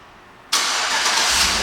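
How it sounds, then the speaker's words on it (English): A 2012 GMC Yukon SLT 4WD fires up by remote start: quiet stillness, then a sudden loud engine catch that settles into a steady, close idle roar, with no talking. "the car starts right up"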